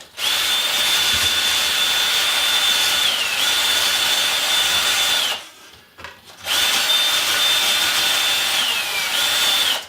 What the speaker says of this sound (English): I have the vibrating, oscillating sander that I can come in here and get in on the drywall and sand that